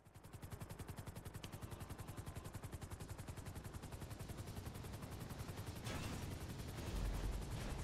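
Rapid automatic gunfire during a GTA 5 heist, a long unbroken machine-gun stream of evenly spaced shots, steady and close, with a heavier rumble joining toward the end.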